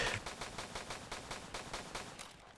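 Rapid gunfire from Roblox Flag Wars plays as an even stream of quick, moderately faint shots, ticking along steadily with no talk over it.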